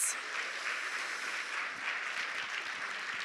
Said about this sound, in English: If we can get another round of applause for these teams and their efforts.